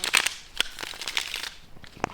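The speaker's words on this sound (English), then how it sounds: "I feel like the shuffling is so loud" Quiet, close tarot card shuffling: crisp papery riffles and soft slaps in short irregular bursts.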